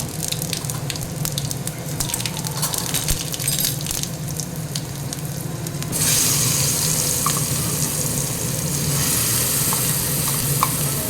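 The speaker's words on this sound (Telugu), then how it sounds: "గ్రైండ్ చేసుకునేది అంతా నూనెలో వేసుకోవాలండి" Garlic cloves, mustard seeds and cumin fry in plenty of oil for a spinach and onion chilli dish, making a continuous hissing sizzle with scattered pops and stirring noises that grows louder and brighter about halfway through; no voices.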